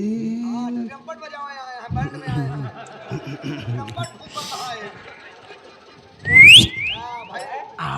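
A person whistles in a rising, sharp burst amid a rural Hindi nautanki folk theatre performance about dacoits, loud for a moment after several seconds of talk and chuckling.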